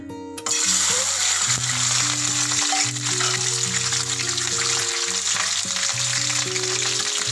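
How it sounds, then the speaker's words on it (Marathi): Slit green chillies hitting hot tempering oil, a loud sudden burst of sizzling that starts abruptly and then crackles steadily at full strength, with a faint tonal hum underneath. "फोडणीला मी इकडे तेल गरम केलेलं आहे. तर सगळ्यात आधी आपल्याला या मिरच्या त्यात टाकायच्या आहे."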